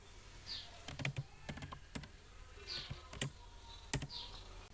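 Typing on a computer keyboard on a Windows 11 machine, irregular clusters of crisp key clicks with short pauses, close and quiet, no voices.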